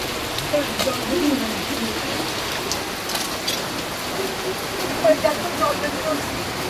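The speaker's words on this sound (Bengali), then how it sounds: "কি বৃষ্টি দেখো" Heavy rain pours down steadily in the background, with a few small bird calls and quiet voices faintly underneath.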